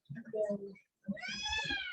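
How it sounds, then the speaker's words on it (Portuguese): A young kitten meows insistently, a short cry followed by a longer, rising wail, heard close to the microphone with no talking over it. "Esse gato aí está com fome."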